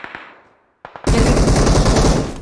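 Gunfire in PUBG Mobile: a couple of faint distant shots fade out, then after a brief gap a loud, close burst of continuous automatic fire erupts and holds steady.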